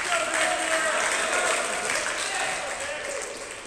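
Crowd applause at a squash final, steady and moderately loud throughout, with a voice talking over it and the clapping thinning slightly toward the end.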